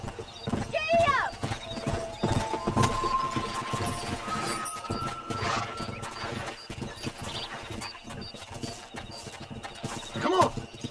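A horse in the video game Red Dead Redemption clip-clops at a gallop with rhythmic hoofbeats and neighs at the start and end, with people talking over it and a sustained tone in the background.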